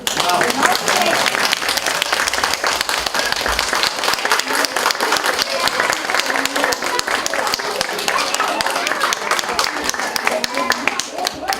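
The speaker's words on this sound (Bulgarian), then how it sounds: "На децата им харесаха вашите аплодисменти." A large audience at a children's holiday performance claps loudly and continuously in a dense, unbroken roar of many hands, with no break from start to finish.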